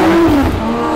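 A BMW Z4 M Coupe with the S54 straight-six engine on a hot lap roars loud and close at sustained high revs, with a brief pitch dip as it shifts or changes load.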